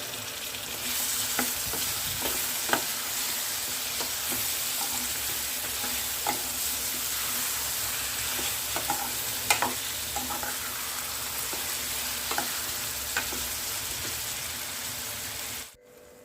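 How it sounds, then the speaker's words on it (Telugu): Drumstick pieces and tomato pieces cooking in a pan on a slow flame for drumstick curry, a continuous even sizzle with scattered light pops and crackles, close and unbroken until a sudden stop. "అలాగే టమాటా ముక్కలు కూడా వేసి స్లో ఫ్లేమ్లో పెట్టి మగ్గించుకుందాం"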